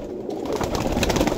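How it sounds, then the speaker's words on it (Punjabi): Pigeons coo in a loft, a low rumbling burble under steady background noise, continuous and moderately loud for a brief moment. "ਬੜੇ ਬੜੇ ਅੱਛੇ ਕਬੂਤਰ ਨੇ"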